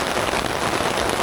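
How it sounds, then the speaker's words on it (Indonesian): Rain starts falling at Gajog Hill Camp, a hillside campsite in Cijeruk. It makes an even, close hiss of drops hitting surfaces, with no talking over it. "Langsung hujan, teman-teman."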